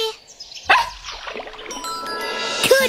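A cartoon puppy from Bubble Guppies barks and yips in short bursts over a soft musical backdrop, with a couple of bright sharp yaps standing out near the start and end.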